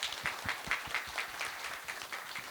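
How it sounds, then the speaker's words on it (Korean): A panel discussion audience applauds six panelists at a conference, a steady patter of many hands clapping with no voices. "패널 6분께 다시 한번 뜨거운 박수 부탁드리겠습니다"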